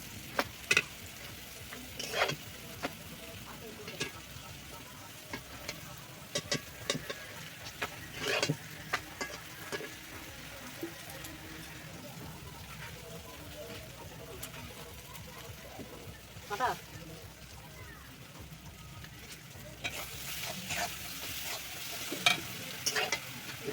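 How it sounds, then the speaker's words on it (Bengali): Potatoes fry in a small amount of oil in a home kitchen, a soft steady sizzle broken by frequent scraping stir strokes, close by, with brief stretches of talk over it. "এইটুকু তেলে আলু তো দেওয়া হয়ে গেছে"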